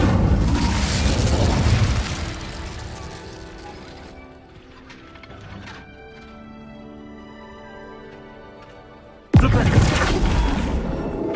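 In Hogwarts Legacy, the Incendio fire spell erupts in a loud roaring burst that fades into a quieter stretch with mechanical rattling, then a second abrupt, powerful blast of fire.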